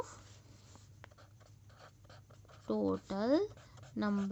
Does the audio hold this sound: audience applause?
no